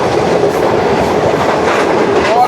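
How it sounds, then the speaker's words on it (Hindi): Pakistan's Shalimar Express passenger train running through Shorkot station at about 113 km/h, with a loud, steady rail roar, rhythmic wheel clatter and a brief high squeal near the end. "ट्रेन हमारी शोरकोट रेलवे स्टेशन को ज़बरदस्त स्पीड में पास शुरू कर रही है,"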